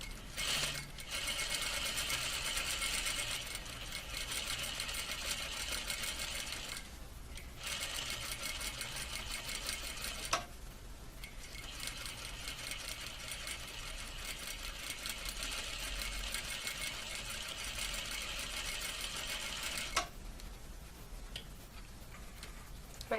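A sewing machine stitches fabric along a curved chalk line in fast, even bursts of rapid ticking, stopping briefly a few times before running on, all close and moderately quiet.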